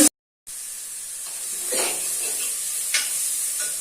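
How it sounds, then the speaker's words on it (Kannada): Onions with cumin and pepper fry in a pan, a steady close sizzle under scraping stirs that swell briefly twice, after a short silent gap at the start; no talking. "ಇದು ಈರುಳ್ಳಿ ಮತ್ತು ಎಲ್ಲ ಫ್ರೈ ಆಗಿದೆ."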